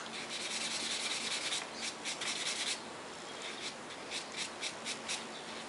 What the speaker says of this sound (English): Very slightly sanding.